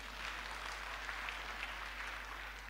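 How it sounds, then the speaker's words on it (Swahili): A church congregation clapping at a Kikuyu thanksgiving Sunday service, a steady rolling applause of many hands, fairly distant and even throughout, over a low hum. "Makofi kwa Yesu."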